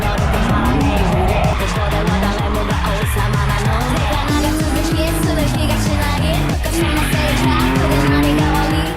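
Cars drift on a road with screeching, squealing tires over loud revving engines, the squeals rising and falling continuously in a busy, noisy scene.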